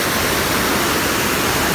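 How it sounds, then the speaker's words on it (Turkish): A waterfall in lush green countryside, its water muddied by rain, pours as a steady, loud, hissing rush across the whole short stretch. "Şöyle bir şelale var."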